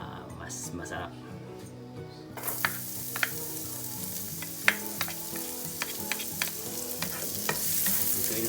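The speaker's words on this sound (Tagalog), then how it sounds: "Ituin lang po natin yung bawang hanggang sa magkulay brown siya." Garlic sautés in oil left from frying pork for pork asado. A bright sizzle surges in after a short quiet start and carries on with repeated stirring clicks against the pan, under a voice talking throughout.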